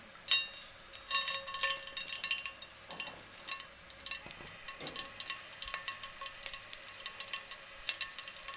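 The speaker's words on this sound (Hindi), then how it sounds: "अब इसमें हम 1 टीस्पून साबुत ज़ीरा डाल देंगे।" Whole cumin seeds hit hot cooking oil in a kadai, giving a steady crackling sizzle with bright spits and pops, plus occasional light clinks of a utensil against the pan, with no talking.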